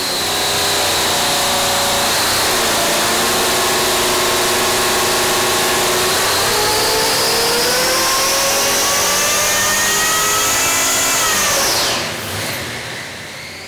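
A supercharged 572 cubic inch Hemi with a 10-71 Roots blower roars on a dyno. It holds a loud, steady drone, then climbs in a long rising pull from about 3,500 to 6,400 RPM before cutting off abruptly.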